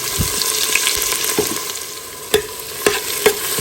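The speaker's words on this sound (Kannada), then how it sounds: "ಈರುಳ್ಳಿ ಸ್ವಲ್ಪ ಬಾಡಬೇಕು ಅಲ್ಲಿವರೆಗಿನ ಹುರ್ಕೋಬೇಕು ಚೆನ್ನಾಗಿ" Chopped onions with ginger-garlic paste and peanuts frying in a pan, a loud steady sizzle under a few sharp scrapes and taps of a stirring spoon.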